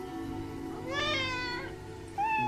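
A kitten meows indoors: a clear, drawn-out, rising-and-falling cry of about a second, followed by the start of a second meow, close and alone over a low background hum.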